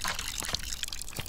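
Water poured onto a potted plant in the Botany Manor video game, a short, steady trickling splash heard alone and at close range.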